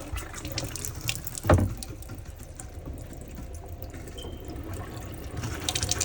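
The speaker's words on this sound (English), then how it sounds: "then you can turn the water pump on" A motorhome's water pump draws water through the sink tap in an AutoTrail Chieftain, giving a steady running-water hiss with a brief louder gush and sputter near the start, close and continuous throughout.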